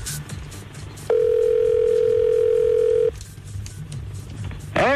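A telephone line rings out with a single steady ringback tone lasting about two seconds, loud and clear against a murmuring background, with a brief electronic chirp near the end.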